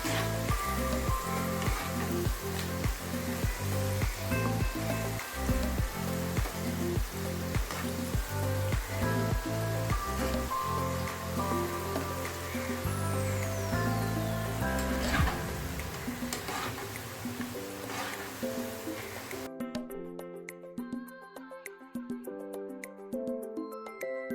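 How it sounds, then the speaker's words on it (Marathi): Wheat-flour shankarpare snacks fry in oil over a low flame with a continuous sizzling, bubbling crackle that stays steady and close under loud background music. "अगदी बारीक गॅसवर तळायचे"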